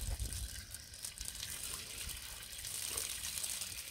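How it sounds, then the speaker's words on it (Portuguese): Water pours steadily from a public fountain of Our Lady in a small town in Minas Gerais, a continuous close splashing gush with no talk over it. "Que eu beba da água, da fonte da Nossa Senhora"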